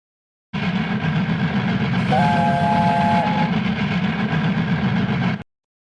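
A steam locomotive thunders fast along the rails in a loud, steady rush of rattling and pounding wheels, with a brief whistle blast partway through; the sound cuts in and out abruptly.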